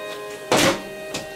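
A flipped plastic water bottle lands on a ceramic toilet tank lid with a single hollow thunk, followed by a fainter knock against a quiet room hum.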